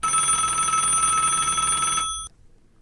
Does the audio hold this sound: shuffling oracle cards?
no